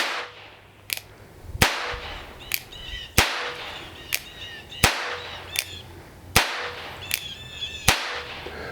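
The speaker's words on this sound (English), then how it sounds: "Okay, these are just caps. We're just going to see if they fire and clear out the nipples." Percussion caps fire one after another on an unfired second-generation 1851 Colt revolver, with no powder loaded. Sharp, loud, close cracks come at a steady pace with faint mechanical clicks between them, and nobody speaks.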